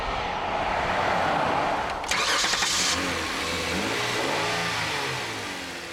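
A 2007 car's 3.8-liter all-aluminum V6, paired with a six-speed automatic, cranks, catches and revs up sharply, then eases back toward a smooth idle, close and loud.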